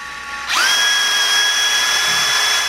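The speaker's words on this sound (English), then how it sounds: "So those two holes are drilled." A power drill spins up sharply and runs at steady high speed, boring holes into a dirt bike transmission valve body; a loud, continuous whine with no voices.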